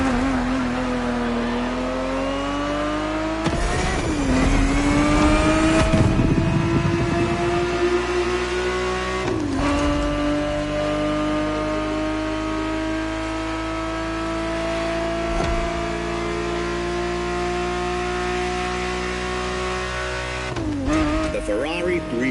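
A Ferrari 365 GTB4 in The Crew Motorfest revs hard through repeated gear changes, its engine pitch climbing steadily before each shift, loud and close, with a voice talking over parts of the drive.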